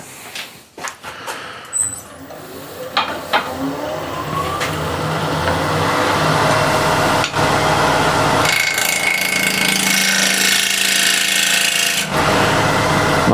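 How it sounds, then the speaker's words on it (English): A ball gouge cutting wood on a lathe: after a few light taps and scrapes, a rising, continuous rough shearing drone of the tool biting the spinning wood, loud and sustained with a brief pause near the end. "So first cut with the ball gouge will be this way."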